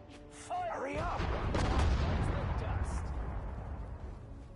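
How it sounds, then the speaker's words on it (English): Artillery fire in a war video game, a heavy booming barrage that swells into a dense rumbling roar and slowly fades, with a voice over the start. "Artillery, fire."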